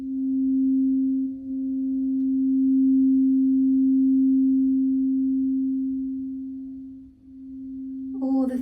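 A St. Germain Alchemy Violet Flame crystal singing bowl sustains one steady, pure ringing tone with a faint overtone, swelling gently for about eight seconds before a brief brighter shimmer at the end.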